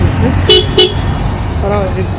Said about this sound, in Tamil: எக்ஸாஸ்ட் நோட் கேட்கறது முன்னாடி ஹாரன் கேட்போம்.